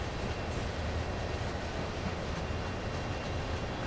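A train in Train Sim World runs on wet rails, a steady, loud rumble and roar of wheels and motors holding even throughout with no talking.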